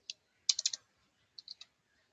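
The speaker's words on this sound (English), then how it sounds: "Next, I want to type" Computer keyboard typing, soft close clicks in small bursts: a single tap, a quick run of four keystrokes, then a few scattered presses, with no talking.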